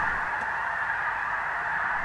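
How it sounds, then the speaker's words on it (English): A large flock of geese honking continuously, a dense overlapping chorus of calls at moderate distance, steady throughout. "just over the hill I came across snow geese."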